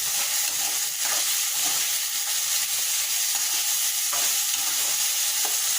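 Tomatoes frying in a pan for vangibath, with a continuous sizzle and soft scraping strokes of a spatula stirring at an irregular pace, close and fairly loud.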